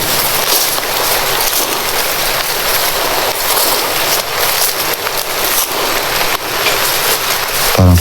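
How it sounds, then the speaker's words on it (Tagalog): Heavy rain pours down outdoors, a dense loud hiss of drops hitting surfaces that continues without a break, with a brief low rumble near the end. "Parang palakas talaga yung ulan tol."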